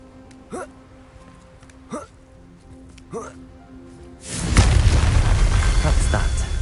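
Confringo fire spell in Hogwarts Legacy: three short whooshing casts, then a loud, broad explosive blast that keeps rumbling to the end.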